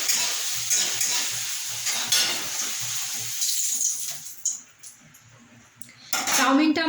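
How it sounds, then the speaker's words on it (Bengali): Vegetables for chowmein frying in a pan, with a bright continuous sizzle, clinking of a spatula against the pan and periodic stirring, quieter mid-clip before a loud burst of hissing at the end. "ততক্ষণ আমি আরও যে সবজিগুলো রয়েছে সেগুলো ভেজে নেব"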